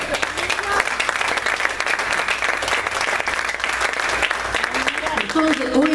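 A church congregation applauding during a sermon: dense, sustained clapping from many hands fills the room at a steady level, with voices mixed in.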